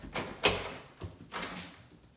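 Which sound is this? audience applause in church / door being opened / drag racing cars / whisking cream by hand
door being opened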